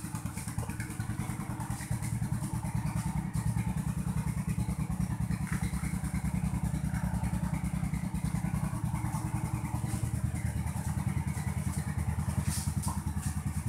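Rusi Korak limited edition motorcycle from 2018 idling steadily for over ten seconds, with a smooth rapid low pulse, a light mechanical clatter on top and faint wind or outdoor hiss, heard fairly close with no voices.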